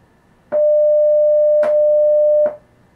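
A custom school bell tone made in Audacity sounds as a single loud, steady electronic pitch that lasts about two seconds, with faint clicks at its start, middle and end, alone against near silence.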